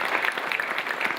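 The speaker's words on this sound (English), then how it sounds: "Round of applause for Evan." Audience at an evening energy networking event in Boston gives a brief round of applause, a dense clatter of many hands heard alone.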